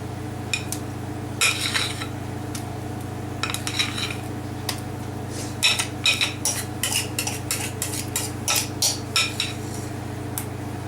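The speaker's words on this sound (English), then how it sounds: "we're going to spread that cream cheese mix over this crust" A utensil spreads a cream cheese mix over a crust in a dish, with repeated clinks and scrapes against the pan over a steady low hum, close and fairly quiet, with no talking.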